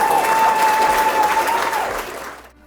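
Wedding guests applaud a newly married couple, a loud, dense round of clapping from a close crowd that fades out at the end.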